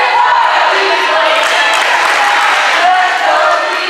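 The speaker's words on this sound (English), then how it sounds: "The crowd is hyped up like a hamster on Red Bull right now." A crowd cheering loudly and steadily at a college volleyball match, a dense roar of voices that fills the space without letup.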